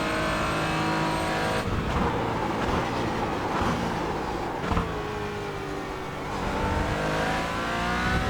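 Porsche Cayman GT engine in the iRacing video game at Road America, revving hard through the gears with rising pitch sweeps, a sharp drop on a gear change, then climbing again, loud and without speech.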